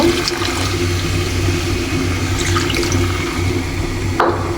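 Water poured into a pot of beef cooking on the stove, a loud close continuous gush and splash lasting the whole stretch, with no voices.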